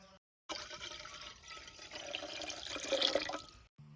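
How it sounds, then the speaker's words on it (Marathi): Water runs and splashes into a metal pot set on a wood-fired clay stove in a village kitchen, a faint continuous pour lasting a few seconds between brief silences. "त्याच्यात घेतलं आता पाणी"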